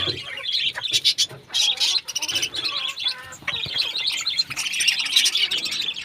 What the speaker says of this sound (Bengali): এই যে আমার কলোনির পাখিগুলোর কাছে আসলাম খাবার দিতে সকালবেলা